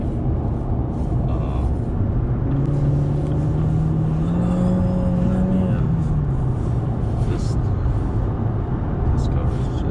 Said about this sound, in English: This car is just too fast.